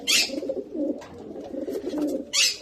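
Rescued pigeons coo in low, rolling phrases close by. Two short bursts of fluttering or rustling fall at the start and near the end.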